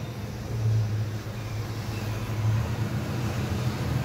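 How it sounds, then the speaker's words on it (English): An OBS Chevy truck pulls in, its engine a steady low rumble that swells slightly in places and holds close by throughout. "So right now I got the truck pulling in behind me."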